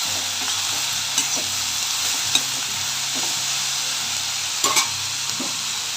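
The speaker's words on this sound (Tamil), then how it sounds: "உளுத்தம்பருப்பு, கடலைப்பருப்பு, தக்காளி, பூண்டு, பச்சை மிளகாய் எல்லாம் போட்டு தாளிச்சிட்டு கொத்தமல்லியை வதக்கிட்டு" Lentils, tomato, garlic, green chilli and coriander fry in a pan, a steady loud sizzle with occasional scrapes and taps of stirring, no one speaking.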